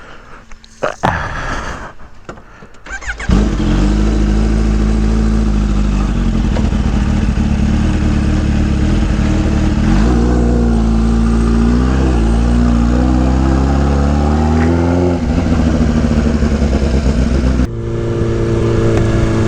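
Kawasaki ZX-14 or Suzuki Hayabusa sport motorcycle riding near the New York skyline, its engine droning loud and close with shifting revs and gear changes for most of the stretch, after a brief start of rustle and wind.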